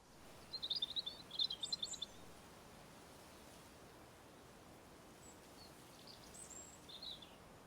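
Birds singing in a winter garden, a few quick bursts of high chirping near the start and again toward the end, fairly faint over a steady hiss of outdoor background noise.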